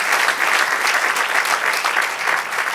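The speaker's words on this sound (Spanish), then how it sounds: "Denle un aplauso al Señor." Steady, dense applause from a church congregation, loud and continuous throughout with no talk over it.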